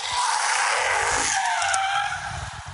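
Car tires skid and squeal loudly outside, a long sustained screech that fills nearly three seconds before easing off near the end, with no talking over it.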